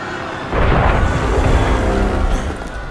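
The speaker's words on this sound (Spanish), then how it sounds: "Ese fue un cañonazo." A cannon fires in Assassin's Creed Unity amid a citizens' revolt, a loud deep boom that rolls into a rumbling, noisy blast lasting a couple of seconds.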